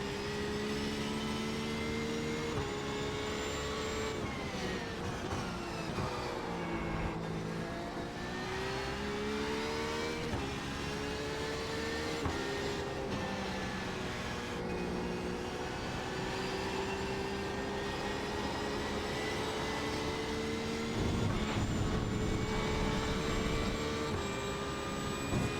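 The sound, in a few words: race car engines in the iRacing video game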